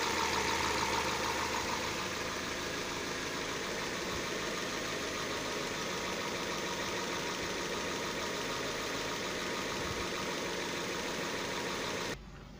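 A car engine idles steadily while warming up after an ignition coil repair, a constant near hum with slight vibration that cuts off abruptly at the end.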